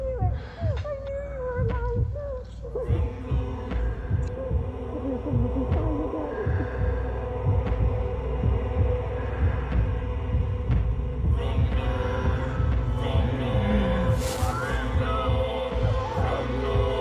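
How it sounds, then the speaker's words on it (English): Low, steady throbbing heartbeat from the vampire game Vampyr, pulsing continuously beneath a droning ambient hum and faint game sounds for the whole stretch. "We see the heartbeat of this person"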